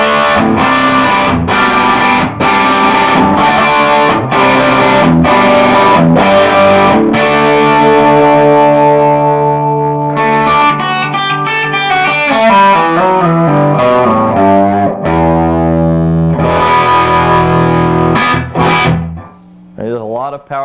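An 8-watt Little Walter amplifier head cranked wide open, pushing a loud, thick, distorted electric guitar through strummed chords and sustained ringing notes, dense and forward throughout.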